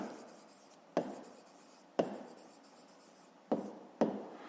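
A pen scratches on paper at close range, writing down the answer to a fifth-grade math exercise, with faint continuous strokes broken by four sharp taps at roughly one-second intervals.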